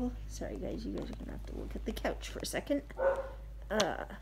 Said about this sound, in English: That is the neighbor's dog.